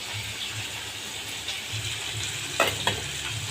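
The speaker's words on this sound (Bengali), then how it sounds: "মটর ডাল বেটে তাতে আদা, গোলমরিচ, শুকনো লঙ্কা দিয়ে মিক্সিতে বেটে এই বড়া ভাজা হচ্ছে" Fritters of ground pea lentils with ginger, black pepper and dried chilli fry in hot oil with a continuous close hissing sizzle, then a couple of brief clattering bursts near the end.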